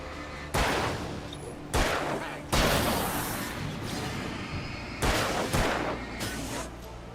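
Gunfire in the Alan Wake video game: several loud, sharp shots spaced a second or two apart, each with a decaying echo tail, two in quick pairs near the end, over a low background rumble.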